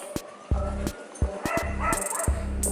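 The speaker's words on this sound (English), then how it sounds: "Stinking dogs." Several dogs bark in short, close, loud bursts, with a few yips and a whimper between them.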